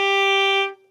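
A single bowed fiddle note fingered with the third finger, held steady and bright for under a second before cutting off quickly, close and alone.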